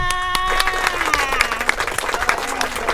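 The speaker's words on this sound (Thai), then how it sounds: "ดีใจด้วยปรบมือให้หน่อยค่ะ" Crowd applause for the winners of a village boat race at Ban Suan Kamphu, steady clapping mixed with cheering and a tonal music or announcer layer, with voices talking over it throughout.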